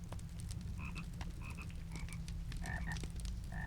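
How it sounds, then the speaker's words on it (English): Frogs croaking in a cave garden in The Lord of the Rings Online, short paired croaks repeating irregularly over a constant low ambient hum. "And a couple of frogs."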